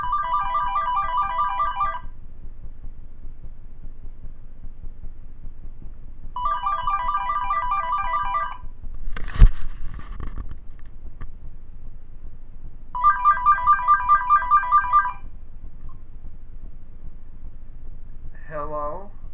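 A VTech cordless phone rings in three distinct bursts of electronic trilling tones spaced several seconds apart, each about two seconds long, loud and close over a quiet room with a brief thump between rings.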